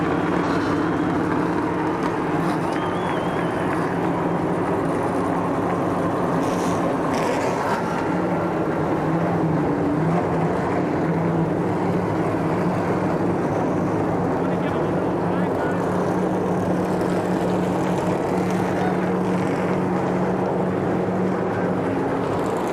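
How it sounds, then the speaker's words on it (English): Stock car engines firing up at Daytona International Speedway for the Pepsi 400, a loud, continuous roar of many motors with a crowd behind it, while an announcer talks over the noise. "Gentlemen, start your engines."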